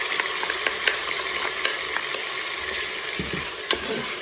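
Tomato and garlic cook in a Cookeo multicooker pot, a steady sizzle under a spoon stirring in scattered scrapes and taps, close and even, a faint electronic hum running throughout.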